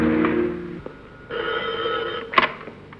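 An old-style telephone bell rings indoors in a household drama scene, a bright trilling ring that stops and starts again over a low background hum, with no talk over it.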